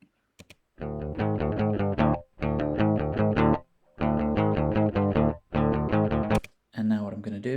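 A DI electric guitar recording played back dry, no amp: bursts of rhythmic strummed chords broken by short gaps, fairly close and even in level, with no voice over it.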